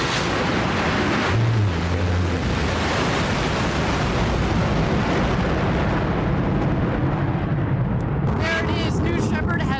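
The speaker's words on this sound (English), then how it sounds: "A beautiful burn on that BE-3 engine." A rocket lifting off on its Blue Origin BE-3 engine gives a loud, broadband roar of rushing noise that fills the whole stretch, with crackling texture and no break.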